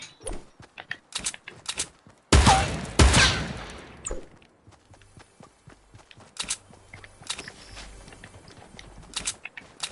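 Bursts of video-game gunfire in a Fortnite match, a loud volley of shots in the middle with scattered quieter pops and footstep-like clicks before and after.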